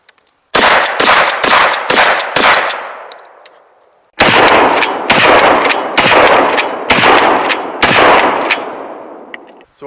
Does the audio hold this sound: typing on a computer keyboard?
no